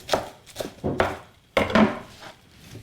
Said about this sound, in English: So just a rough chop.